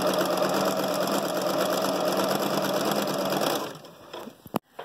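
A sewing machine stitches a 3D fabric face mask, running in a steady, close, continuous whir for several seconds before slowing and stopping, followed by a few small handling clicks.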